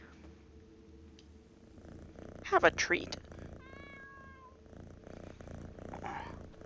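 A cat in the video game Skyrim VR gives a short run of rising and falling meows with a soft purr underneath, close by, while someone talks over the game sounds.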